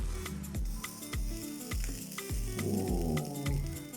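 A flat iron sizzles and crackles against wig hair coated with styling products, giving steady frying-like hiss and a series of rhythmic clicks as the iron clamps and slides, faint and close, with no talking.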